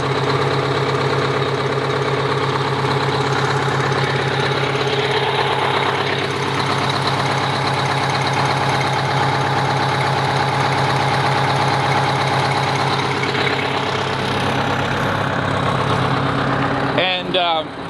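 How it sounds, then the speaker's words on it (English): A Detroit diesel in a Neoplan Cityliner N117/2-based motorhome idles after a smoky cold morning start without ether or glow plugs, a loud, steady, close rumble that holds throughout. "that is a cold start with no ether, no glow plugs, good old Detroit diesel"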